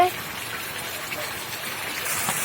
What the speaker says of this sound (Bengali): বাহিরে বৃষ্টি হচ্ছে